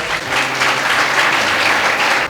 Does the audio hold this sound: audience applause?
yes